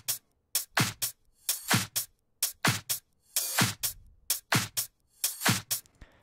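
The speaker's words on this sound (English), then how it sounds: "we have a little bit of other percussion as well. We have a Kashmir top loop, so it sounds like this." Percussion top loop in a Melbourne bounce drop built in FL Studio, a steady rhythmic pattern of crisp, bright hits repeating at an even pulse, fairly quiet and alone.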